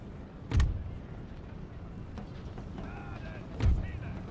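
Two heavy booms a few seconds apart come from artillery cannons firing in the Empire: Total War strategy game, each a sharp thump that fades out quickly, with faint background battle noise in between.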